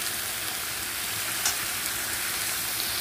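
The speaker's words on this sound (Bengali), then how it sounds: "এটা ভালো করে আমি কষাতে থাকবো" Vegetables and masala sautéing in a hot pan with turmeric and salt, a steady broadband sizzle with faint scraping of stirring, continuous and close with no talking.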